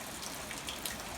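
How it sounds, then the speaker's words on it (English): Light rain falls steadily on an open farm pasture, a soft continuous hiss with scattered faint drop ticks throughout, no voices. "it's a light rain today"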